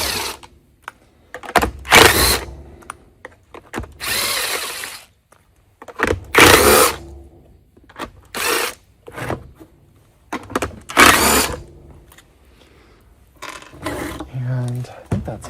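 Case screws being removed from a Bissell PowerForce Helix vacuum on a workbench: loud, close bursts of whirring driver noise, each lasting about a second, separated by short quiet gaps and light handling clatter.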